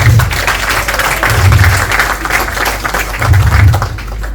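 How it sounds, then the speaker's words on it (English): A crowd at a 65th birthday celebration applauds a former president, sustained clapping over a loud low hum of the room's sound system. "A big round of applause for him."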